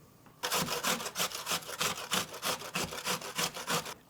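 Salt being ground by hand in a home kitchen for an Iranian yogurt soup (Ash-e-Doogh): close, rhythmic gritty rasping strokes, about three per second, steady and alone after a short quiet start.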